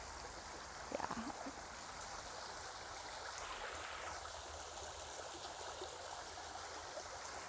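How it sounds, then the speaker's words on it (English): A creek flows in a steady, soft outdoor rush of running water, continuous and fairly distant, with a brief faint knock near the start and no talking. "this gorgeous creek I am with right now"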